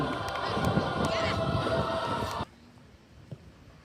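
A crowd at the final of the first Chaturaphak Phiman Cup football tournament claps for the players in a loud, dense burst of applause that stops abruptly partway through, leaving quiet background noise.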